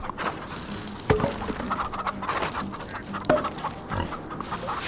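Game-style farm animal sounds from unicorn chickens in Farm Together, with soft clucks over a busy background of ambient farm noise. Two sharper accents stand out along the way, and no voice is heard.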